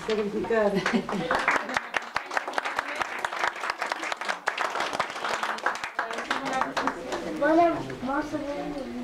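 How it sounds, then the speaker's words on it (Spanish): Warm applause from an audience at a talk on Victor Hugo and social inclusion, a dense patter of clapping that swells then fades, with voices speaking over it at the start and end. "Un gran aplauso para José."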